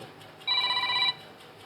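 A phone rings once during a class, with a short electronic tone lasting about half a second that stands out close and clear against a quiet room.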